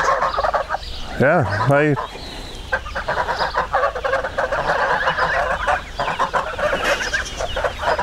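Flock of American Buff geese honking and clucking with loud repeated calls, plus a couple of sharp squawks early on, mixed with a voice briefly saying something.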